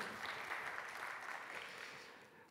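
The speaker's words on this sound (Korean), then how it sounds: "하나님께 영광의 박수 올려드리겠습니다." A crowd applauds in a church, a steady wash of clapping that holds evenly and then fades slightly at the end.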